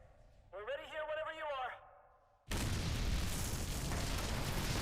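A voice speaks briefly, then falls silent before a sudden loud bomb blast in Phoenix Wright: Ace Attorney - Dual Destinies, which rumbles on as a sustained roar.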